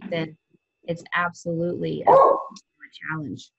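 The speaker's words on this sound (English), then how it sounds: "So sorry about my dog." A pet dog gives a short bark burst among speech from someone talking during a health conversation, the yelp standing out briefly in the middle before talk resumes.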